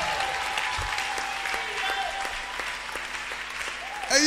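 A church congregation claps loudly and steadily for the whole stretch, a dense continuous applause with voices faintly mixed in.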